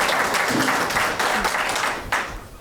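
Audience applause at a county council candidate forum, a brief burst of clapping from a modest crowd with a few distinct claps standing out, tapering off near the end.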